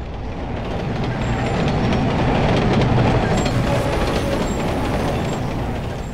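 A train passes overhead in the video game Carrier Command Gaea Mission, a steady, loud rumbling roar with rattling rail noise that swells toward the middle and holds throughout, without speech.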